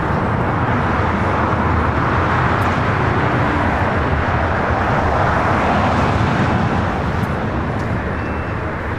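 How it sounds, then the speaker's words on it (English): A China Airlines Boeing 777 freighter takes off from runway 25 right at LAX, a loud, steady jet roar that fills the whole stretch without a break. "China Airlines cargo, the 777 freighter lined up. 25 right will be the next takeoff here on the south side."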